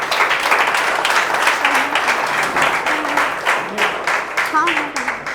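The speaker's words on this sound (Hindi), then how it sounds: "तो एक बार जोरदार ताली बजाएंगे अपने गुरु के लिए।" An indoor audience at a direct selling marketing talk bursts into sustained, loud applause welcoming a speaker, with clapping continuing for several seconds while voices call out over it.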